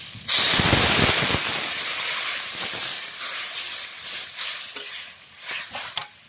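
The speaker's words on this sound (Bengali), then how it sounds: "আমি এখন জল দেবো।" Water poured into a hot pan of dry-fried ginger and chilli masala for a thin stinging catfish curry bursts into a loud rushing hiss that slowly fades into bubbling sizzle and a few stirring clinks, with no talk.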